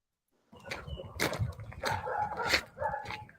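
Dogs bark in a rough, overlapping burst of several barks and yips after a moment of silence, fairly loud and close, with some whimpering mixed in.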